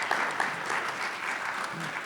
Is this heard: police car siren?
no